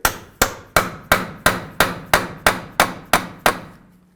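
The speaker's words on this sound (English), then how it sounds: "Take a hammer and punch, come right in the center here to break this free." Ten sharp metallic hammer blows on a punch against the front axle nut of a 2011-2016 Hyundai Elantra land at an even, steady pace, close and loud, each ringing briefly before the next strike.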